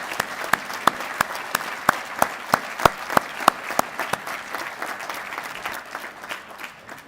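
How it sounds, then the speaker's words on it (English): A school assembly audience at a Veterans Day event at Owen Valley High School applauds in a steady, loud wash of clapping, with sharp individual claps ringing out in a regular beat that fades toward the end. "Let's give everybody a hand, right? Round of applause."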